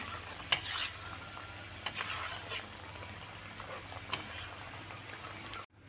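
Oil crackles and sizzles steadily in a wok as helencha leafy greens are tempered, with a few sharp clinks of a utensil against the pan over a constant frying hiss, and no speech.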